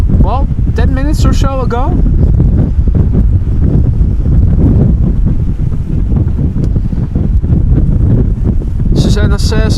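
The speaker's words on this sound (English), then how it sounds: "sure sounds windy. It definitely is." Strong gusty storm wind batters the microphone at Amsterdam Schiphol Airport, a loud continuous roar with buffeting surges, while someone talks briefly at the start and short chirping sounds break in near the end.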